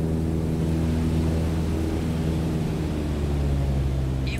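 A light aircraft engine eases back on the throttle in Microsoft Flight Simulator 2020, giving a steady, loud, close droning hum with even tonal layers throughout and no talking.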